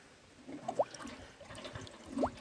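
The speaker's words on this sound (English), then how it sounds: "Now you can pull your little plug down in here and you can drain it." Water drains from a small sink in a homemade car camper after the plug is pulled, a faint trickle with a couple of soft gurgles, no speech.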